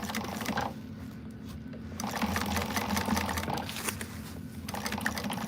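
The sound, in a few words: sewing machine stitching a back stitch at a seam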